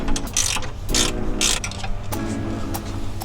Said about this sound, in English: So we have an open end ratcheting wrench.